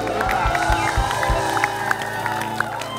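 A studio audience at an Indonesian comedy talk show breaks into loud cheering and applause, a dense crowd roar with whoops and clapping, voices mixed in throughout.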